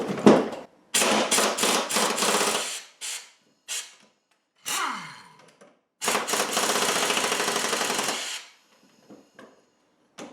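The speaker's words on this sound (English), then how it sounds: "pneumatic hammer here, or whatever you want to call it, air hammer or air drill." An air impact wrench with a 24 mm socket removes the blade nut on a John Deere D140 lawn mower deck, rattling loudly in several bursts of hammering, some short, one long, separated by pauses, with a metallic clink between them.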